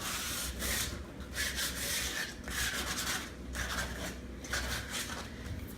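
Wooden chair rungs are scuffed to distress the furniture, giving a steady close rasping rub in repeated strokes with brief pauses between passes, no voices.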